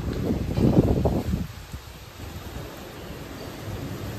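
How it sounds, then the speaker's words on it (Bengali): Strong gusts blow through trees ahead of a storm, a broad rushing roar that peaks early and then settles into a steady, fainter windy hiss. "দেখেছো কি হাওয়া দিচ্ছে, কি আওয়াজ হচ্ছে"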